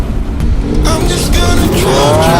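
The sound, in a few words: car driving off, likely a Ferrari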